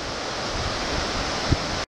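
The Galion waterfall in a Guadeloupe forest roars steadily, a dense even rush of falling water that cuts off abruptly.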